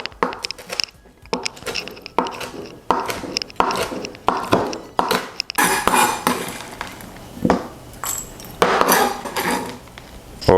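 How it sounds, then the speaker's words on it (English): A knife rough-chops cooked bacon on a board, giving a rapid run of sharp, close knocks in irregular bursts, with occasional clatter between them. "Just going to rough chop the bacon."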